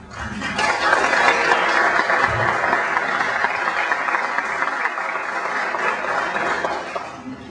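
Sustained applause from a crowd fills the room, steady and dense throughout before tapering slightly near the end.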